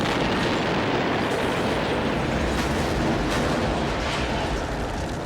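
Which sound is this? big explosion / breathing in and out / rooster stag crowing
big explosion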